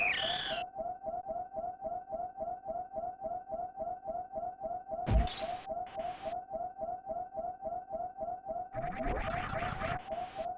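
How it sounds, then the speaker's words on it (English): Low-health warning beeps from the Zelda game Oracle of Ages repeat in a steady, rapid rhythm throughout, with a few brief game sound effects cutting in along the way and no talking. "They just wanted to make sure we hear the low health beeping sound a bunch"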